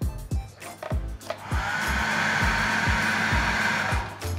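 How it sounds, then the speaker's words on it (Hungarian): A hair dryer blows hot air into a box, a steady loud whooshing roar that starts after a few sharp knocks and handling thuds, then runs continuously up close. "Ez egy hajszárító és egy doboz."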